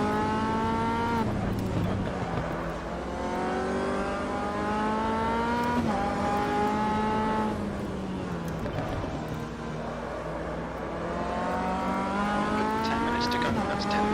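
MCR Sports 2000 race car engine in Automobilista VR at Ibarra, a steady loud whine with harmonics rising and falling through gear changes and throttle lifts, with a voice talking over it.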